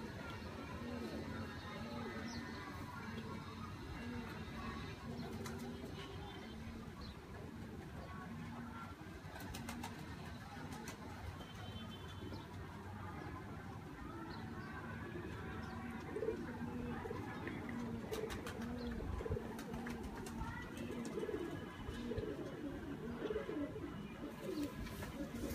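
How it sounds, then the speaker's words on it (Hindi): Salara pigeons coo in low, steady murmurs throughout a long stretch, with occasional wing flaps and background voices talking underneath. "ये सलारा कबूतर है बड़ा"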